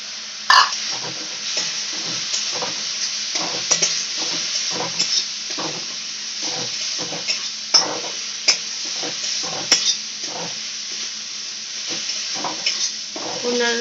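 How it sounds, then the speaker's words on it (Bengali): Coconut stirred into vegetarian ghugni in a pan, with a spatula scraping and knocking the metal in an irregular rhythm over a steady sizzle, close and fairly loud throughout. "নারকেলটা দিয়ে ভালো করে নাড়িয়ে নিচ্ছে"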